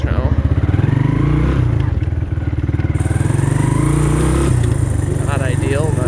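A 1983 Kawasaki Prairie 250 three-wheeler engine runs loud and close, a steady rough putter at idle with slight rises in revs, filling the whole clip.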